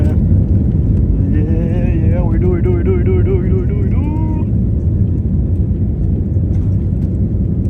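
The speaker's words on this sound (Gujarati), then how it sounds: "ફાઇનલી અમારું પ્લેન ઉડવા જઈ રહ્યું છે." An airliner on a Delhi to Ahmedabad flight heads for takeoff, heard from inside the cabin as a steady, loud low engine rumble that fills the whole clip, with a voice talking over it for a few seconds.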